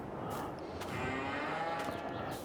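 Cattle on a farm low and moo in a steady, moderately faint chorus, with overlapping calls filling the barn area and no talking.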